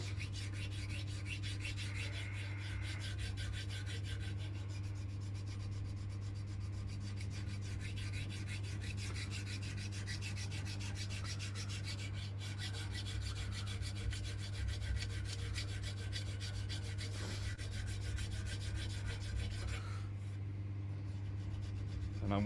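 Dagger blade hand sanded with 320 grit abrasive, a continuous close rubbing rasp with steady back-and-forth texture over a low background hum.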